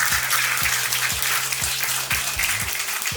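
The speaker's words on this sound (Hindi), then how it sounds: "जोरदार तालियां हैं।" Loud, sustained applause from an audience at a Teacher's Day celebration, dense clapping filling the room steadily throughout with no talk over it.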